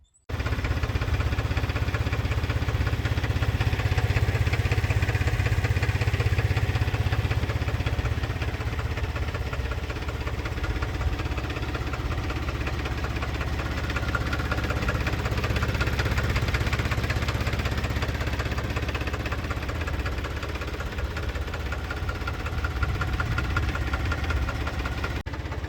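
An Eicher 485 tractor, a 2017 model with a 45 hp air-cooled engine, idles steadily and loudly for the whole stretch with a deep, even low rumble and faint knocking rhythm, and no voices.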